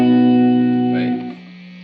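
Electric guitar through a Catalinbread Belle Epoch tape echo delay pedal, a sustained chord ringing loud and then fading into a softer, slightly smeared repeating tail, with no talking.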